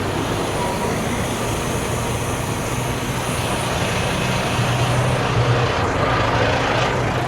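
A truck's reefer refrigeration unit runs at a steady, constant drone with a low engine hum, with no pauses and no talk over it.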